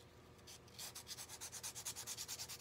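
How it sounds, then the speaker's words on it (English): Rhythmic back-and-forth scuffing on the back of flowers on a purple mesh rail wreath, a quiet, close rubbing that settles into a regular stroke about five times a second, with no voices. "I'm gonna scuff it up again."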